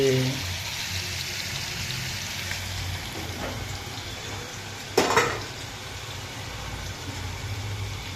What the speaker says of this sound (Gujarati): તેલની અંદર જ આપણે થોડીક વાર સુધી પાકવા દઈશું